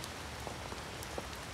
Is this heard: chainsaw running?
no